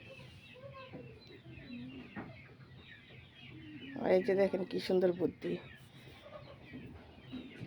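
Hens clucking inside a small partitioned coop, with soft calls running throughout and a louder burst in the middle. Someone talks over them close to the microphone.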